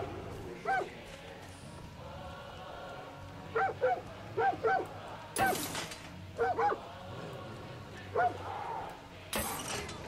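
Dog barking in short bursts with a whimper, inside the Far Cry 5 video game, against a low in-game ambience, with sharp mechanical noises at intervals.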